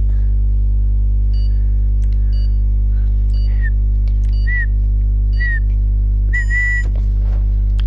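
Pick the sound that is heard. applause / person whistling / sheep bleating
person whistling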